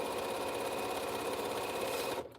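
A sewing machine runs in one steady, continuous burst while stitching T-shirt quilt blocks together, its motor hum and needle chatter holding even before stopping abruptly near the end.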